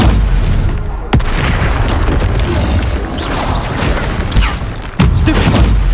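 Spell blasts and explosions from the video game Hogwarts Legacy hit loudly and densely, with sharp booming impacts standing out over a constant crackling barrage.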